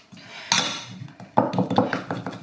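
Clinking of a utensil against a bowl as coloured vegan royal icing is mixed by hand, a few bright scraping knocks then a quicker run of taps, close and moderately loud.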